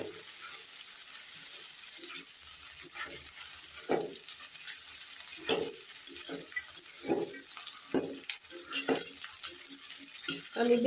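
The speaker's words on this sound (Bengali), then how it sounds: "পেঁয়াজ কুচি দিয়ে ভালোভাবে একটু ভেজে নেব।" Chopped onion frying in a pan while potato, brinjal and bean chorchori with tengra fish is being made, a faint sizzle with irregular stirring scrapes and clicks, close and quiet.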